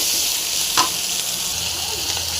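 Curry leaves and coriander fry in a pan, giving a steady bright hiss and crackle throughout, with one brief sharper pop near the start.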